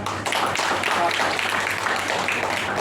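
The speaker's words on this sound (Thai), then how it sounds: "ผมขอเสียงปรบมือให้โค้ชชิดอีกหนึ่งครั้งครับ" An audience applauding a coach at a modern pentathlon event, a continuous patter of many hands clapping in a room, moderately loud, with talk mixed in.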